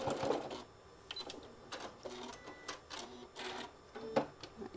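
Sewing machine finishing the last few stitches on a folded heart case, a faint, quiet sequence of short mechanical bursts and clicks with brief pauses between them.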